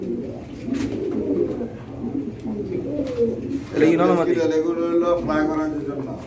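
Pigeons at a pigeon farm coo in repeated throaty bursts, growing louder and denser toward the end, while people talk over them.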